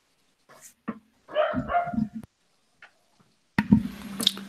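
A nearby dog gives several short barks and yips in separate bursts with quiet gaps between them, indoors among friends hanging out.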